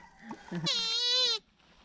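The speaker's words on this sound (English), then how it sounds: "they've made these little wooden knickknacks that sound exactly like the animal that they represent" A small wooden frog figurine blown to make an animal call gives one loud, buzzy, strongly harmonic bleat lasting about two thirds of a second, right after brief low talk, then the clip falls quiet.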